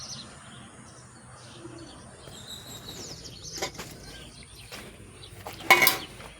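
Birds chirp and tweet around a garden rose bush, scattered short calls over a soft outdoor background, with a louder burst of chirping near the end.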